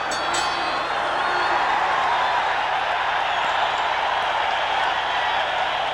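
Crowd at a 1981 WBC world middleweight boxing bout between Marvin Hagler and Fulgencio Obelmejias, cheering and roaring as a round ends in a steady, dense wall of noise that stays loud throughout.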